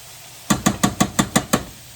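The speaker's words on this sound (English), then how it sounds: "I'm going to stir this until I get a gravy effect" Seven quick, evenly spaced metallic taps of a utensil against a pan while stirring water in to make gravy, close and clear with no talking.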